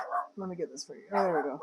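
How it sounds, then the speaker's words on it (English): A dog gives short barks and yips close by, mixed in with a person talking. "Sorry about the dog, guys."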